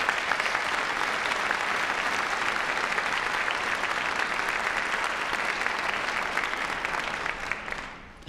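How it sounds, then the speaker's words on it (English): An audience at a university doctoral hooding ceremony applauds a graduate brass quintet, with steady dense clapping throughout that fades out at the end. "Can you please give them a round of applause?"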